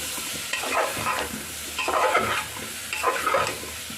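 A vegetable masala seasoned with a spoonful of garam masala fries in a pan. It is stirred in about three scraping bursts, each with a soft sizzle, in a close, quiet kitchen with no voices.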